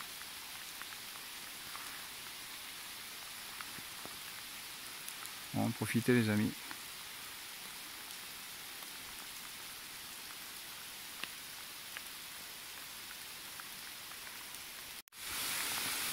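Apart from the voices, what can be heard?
heavy rain falling in the woods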